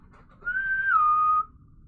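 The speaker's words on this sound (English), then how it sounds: "It's like a whistling sound," A person whistles a single clear tone, held steady then dropping slightly in pitch, lasting about a second against a quiet background.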